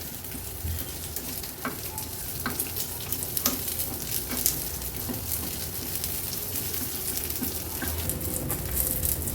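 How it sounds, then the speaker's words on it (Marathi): Dried coconut slices and onion sautéing in oil, producing a steady close sizzle with repeated stirring scrapes and clicks, no voices. "थोडासा रंग बदलेपर्यंत खोबरं आणि कांदा आपल्याला परतून घ्यायचा आहे"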